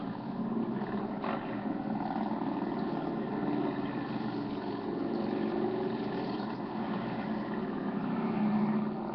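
Dense, continuous rumble of massed Harley-Davidson motorcycles, about 2,500 riding through the streets of Washington, D.C. on Memorial Day weekend for Rolling Thunder, a steady broad engine roar throughout with no speech.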